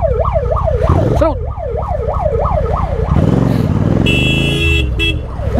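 An ambulance siren wails in a repeating rising-and-falling pattern close by in heavy NCR traffic, over engine and road noise, then gives way to honking horns and a rougher electronic tone while a voice talks.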